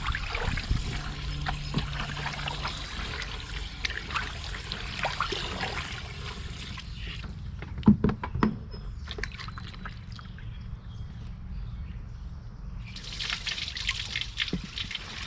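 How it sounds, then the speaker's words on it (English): Water trickles and drains continuously from a tub used to wash heirloom quilts, with occasional drips and gurgles, close and fairly quiet, with no talking. "we're gonna let the water out of it"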